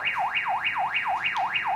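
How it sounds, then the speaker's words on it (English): A Baofeng UV-5R+ handheld radio sounds its built-in alarm, a loud electronic siren sweeping steadily up and down in pitch about three times per second, alone and continuous throughout. "if you press and hold a certain button, you get an alarm, which is really annoying"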